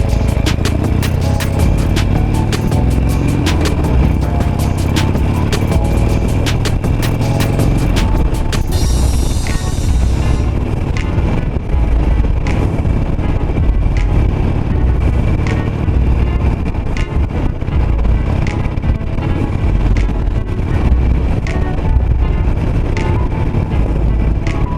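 A 17-year-old Harley-Davidson Nightster motorcycle engine idling steadily, a loud, continuous low rumble heard up close, with wind noise over the microphone.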